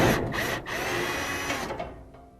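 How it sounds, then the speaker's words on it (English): A DeWalt angle tool drives out the igniter screw on a Whirlpool gas dryer, a steady close mechanical whir with brief dips and stutters as the bit grips, trailing off toward the end. "So you got a DeWalt angle tool to get into that screw there"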